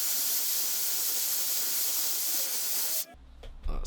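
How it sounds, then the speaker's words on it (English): Steady broadband rushing air of a hair dryer blowing on hair sprayed with texture spray for about three seconds, then it cuts off, leaving quiet handling noises. "we're going to use a blow dryer just to speed things up"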